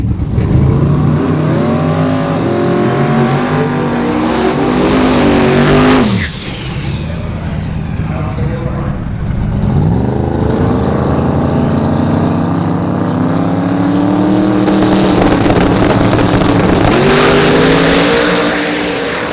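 Pro mod drag cars, 4000 horsepower and street legal, race at an NHRA event: a loud, continuous engine roar runs through the whole stretch, with a sharp break partway and rising and falling revs. No one speaks.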